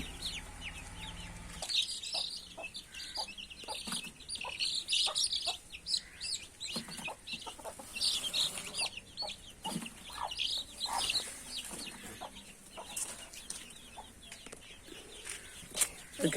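A flock of chicks cheeps continuously in a coop, with many overlapping high chirps at close range and no talking.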